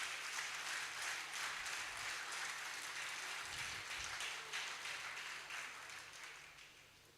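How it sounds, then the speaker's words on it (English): An audience at a polytechnic valedictory lecture applauds, a fairly quiet wash of many hands clapping together that holds steady and then gradually fades out. "Please, a round of applause for him."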